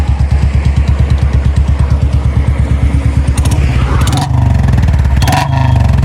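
An old and a new Royal Enfield Standard motorcycle run in a drag race, giving a loud, close, steadily thumping idle that breaks into sharp revving bursts near the end.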